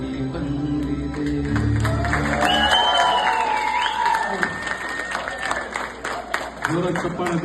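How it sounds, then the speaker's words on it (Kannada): Loud applause and cheering from a crowd at a karaoke event in Bengaluru-style community setting, building steadily and continuing for several seconds, with voices talking underneath. "ಜೋರಾಗಿ ಚಪ್ಪಾಳೆ ಬರಲಿ."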